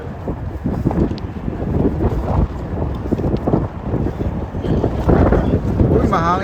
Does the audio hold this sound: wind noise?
yes